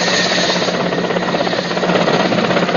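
Helicopter landed during a military rescue operation, its rotor and engine a loud continuous droning throb that fills the whole stretch with no break.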